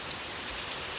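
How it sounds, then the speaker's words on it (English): Heavy typhoon rain in the Philippines pours down in a dense, unbroken roar of drops hitting surfaces, loud and close, with no voices. "The rain is just insanity right now."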